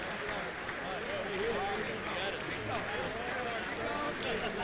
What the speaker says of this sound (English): The applause are quite consistent and loud.